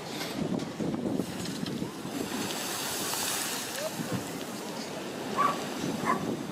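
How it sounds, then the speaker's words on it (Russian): Sea waves crash and surge onto the shore at Langeron beach on a windy November day, a steady loud roar of surf and wind with brief louder breaks near the end. "С моря выкидывают даже камни."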